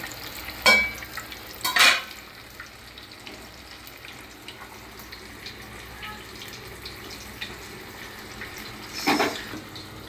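Fish frying in a pan in a village kitchen, a low continuous sizzle with a few louder scraping or stirring bursts near the start and end, no talk.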